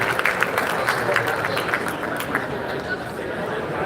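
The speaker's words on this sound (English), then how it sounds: "How about let's round of applause for the interview?" A panel audience at a Little Saigon 50-year resilience event gives a round of applause after an interview, scattered clapping mixed with crowd chatter and voices.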